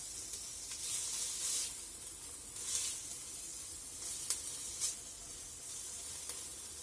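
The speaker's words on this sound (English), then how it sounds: "We're going to saute off this mirepoix." Mirepoix and bacon sautéing in a pan give a steady, moderately quiet sizzle with airy hiss that swells and fades, plus a few brief sharp crackles and spatters; no one speaks.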